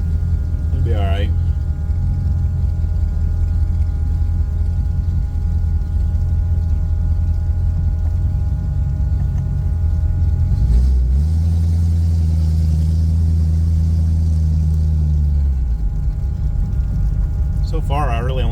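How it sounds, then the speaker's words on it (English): Holley Sniper fuel pump running inside a car while the engine idles, a faint steady electric whine beneath the deep rumbling idle, with a short rev in the middle. "Definitely hear the pump sitting in the car."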